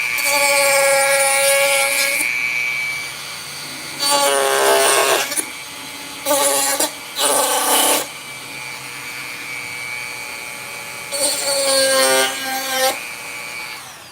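A Dremel rotary tool at a work table whines in bursts of varying length, spinning up and cutting off repeatedly between quieter stretches of lower motor hum, with no talking.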